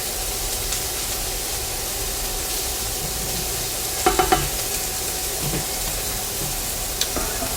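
Asparagus sears in a hot pan with a loud, steady hiss that continues unbroken, and a few light clicks and shuffles come through near the middle and end.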